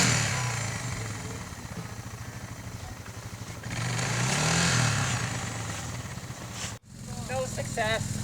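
Suzuki DR650 dual-sport motorcycle engine straining up a hill climb, a steady droning roar that swells louder midway, briefly cuts out, then returns with rougher bursts near the end.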